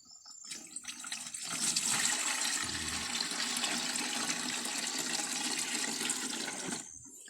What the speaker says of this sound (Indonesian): gembornya tuang guys, pelan-pelan jangan sampai tumpah guys ya